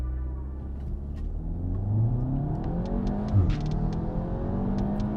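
A 2019 Cupra Ateca's engine roars as it launches and accelerates hard, the pitch climbing through gear changes, loud and close.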